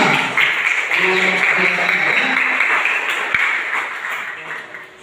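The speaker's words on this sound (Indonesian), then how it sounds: "kasih tepuk tangan sekali lagi untuk kelompok tema" A room full of people clapping for a group presentation, steady applause for several seconds that slowly tapers off, with a few voices mixed in.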